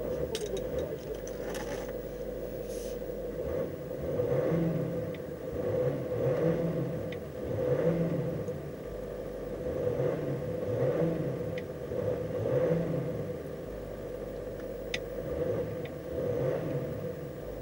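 A 2008 Range Rover TDV8 Vogue SE diesel V8 engine drones steadily while driving, with a low rumble that swells and eases in regular waves, plus faint rattles and road noise.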